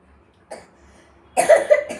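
A child coughs nearby, a short cough followed by a louder burst of several rapid coughs.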